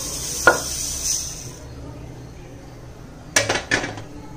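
Roasted millet grains are stirred and tipped into a pan in a home kitchen, with a sharp clink, brief rustling, then a cluster of metallic scrapes and knocks of a utensil against the pan.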